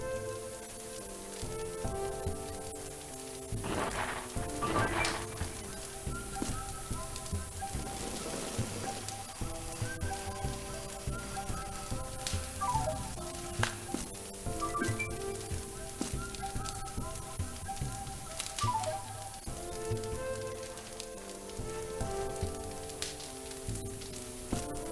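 Steady rain patters in a Nintendo Switch 2 game, a continuous hiss of drops on surfaces that runs throughout, with faint game tones and clicks layered underneath.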